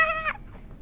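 A cat gives a single short, clear meow in a quiet room, close and alone, cutting off after a fraction of a second into faint background hiss.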